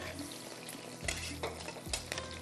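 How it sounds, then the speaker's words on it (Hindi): Garlic frying in a pan for chili saucy chicken gives a faint sizzle under a few distinct scraping stirs of a utensil, with no talk. "यहाँ पर मैं लहसुन को डालूँगी, यहाँ पर थोड़ा सा इसको फ्राई करेंगे"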